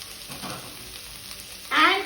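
Chopped onion and drumstick frying in a pan for a mixed vegetable kara kuzhambu gravy, a low steady sizzle that swells into a louder burst of frying near the end.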